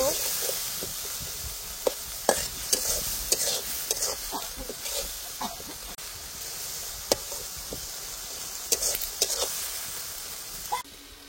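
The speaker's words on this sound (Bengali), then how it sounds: "মশলাটা খুব ভালোভাবে কষিয়ে নিচ্ছি।" A masala of coriander powder, tomato and salt sautés in a pan, with a steady sizzle under repeated sharp scrapes and clacks of a spoon stirring, close and fairly loud, with no talk.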